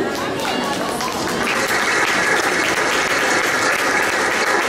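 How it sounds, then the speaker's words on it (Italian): Audience applause fills a shopping-centre hall during a beauty pageant preliminary, a dense, steady clatter of clapping that holds loud for nearly five seconds with a crowd murmuring underneath. "Quindi applausi di ringraziamento."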